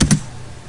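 Two quick, close key presses on a computer keyboard, the L key then Enter, a sharp double click followed by quiet.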